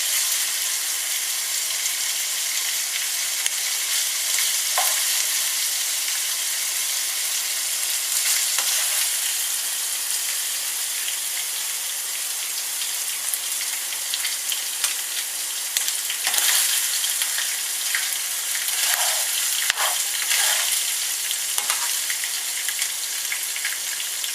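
Beef mince fries in plenty of oil in a tilted fry pan, producing a loud, continuous sizzle with a bright, hissing crackle close by. It runs unbroken for the whole stretch, with occasional spoon scrapes and no talking.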